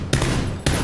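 Gunfire in the battle royale video game PUBG: two sharp, loud shots about half a second apart, each followed by a short ringing tail, with no talk over them.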